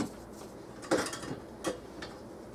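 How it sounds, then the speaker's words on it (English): Walnuts and coconut flakes being stirred together in a pot on the stove, heard as a few soft, close scraping clinks of a spoon against the pot, spaced irregularly over a quiet background. "we're going to stir that all together"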